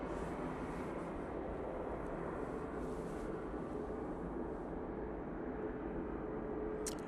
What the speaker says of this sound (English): On short final, we have the Ryanair from Venice.